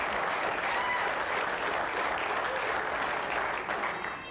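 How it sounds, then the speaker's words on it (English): A crowd applauds steadily and loudly in a dense wash of clapping that holds for the whole stretch, greeting talk of muskie fishing. "How about a round of applause for that kind of fishing,"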